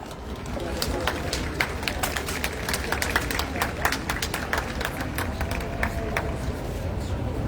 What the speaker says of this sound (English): Please give a round of applause to Muhaddisa.